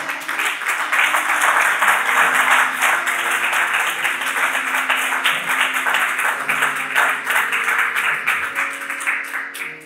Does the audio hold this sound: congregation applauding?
yes